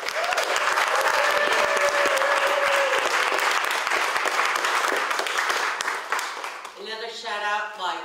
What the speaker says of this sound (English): let's one more time a huge round of applause for our three finalists